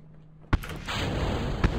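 Two sharp, booming explosions go off in a space flight game, the first in mid-clip and the second near the end, with a steady rushing roar between them.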